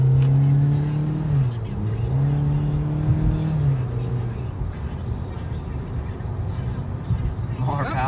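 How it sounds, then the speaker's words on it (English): A 2019 Toyota Corolla at wide open throttle from a standstill through an S-curve, its engine note climbing loudly and steadily up close, with voices talking over it. "take a complete stop here and then wide open throttle around this S"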